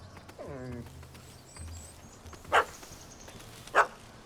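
A dog's bark in The Witcher 3 game world, two short loud yaps standing out well apart over quiet ambient game sound, after an earlier descending animal cry, with faint talk in the background.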